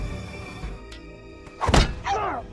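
A man is struck with an iron bar during a film fight scene, giving one loud, close, heavy thud against a low background hum, followed by a brief whooshing swell.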